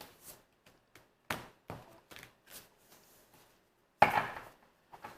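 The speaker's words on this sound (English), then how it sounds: "Mix up my cards a little bit." Tarot cards being mixed for a birthday reading: soft, scattered papery riffles and taps in short separate bursts, with one louder shuffle near the end, fairly close and quiet, no talking.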